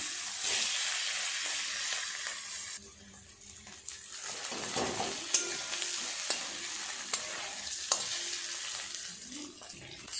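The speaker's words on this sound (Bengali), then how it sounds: "মাছের ডিমগুলো সব খুব ভালোভাবে ভাজা হয়ে গেছে" Hilsa fish roe fries in oil in a home kitchen, a steady soft sizzle with a few stirring scrapes and clinks, fairly quiet and with no voices.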